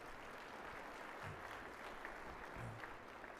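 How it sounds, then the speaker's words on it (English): An audience at a city State of the City address claps in steady, faint applause that fills the whole moment without speech. "Round of applause."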